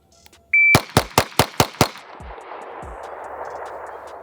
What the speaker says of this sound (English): we'll shoot 6 rounds in a head box and then 6 rounds in the body